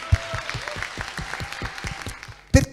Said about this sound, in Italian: Un bel applauso a Emilio Casalini!